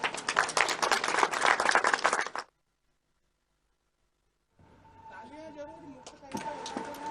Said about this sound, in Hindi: तालियां जरूर मुक्त कंठ से बजाते रहें